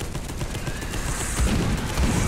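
Rapid sustained gunfire from the video game Space Hulk: Deathwing, a dense continuous volley of loud shots rattling without pause, with no talk over it.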